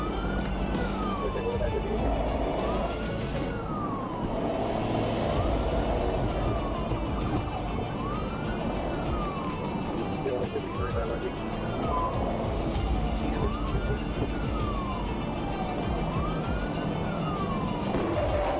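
A police car siren wails continuously during an urban high-speed pursuit, its rising and falling cycles repeating steadily over engine and road noise, with a voice talking throughout.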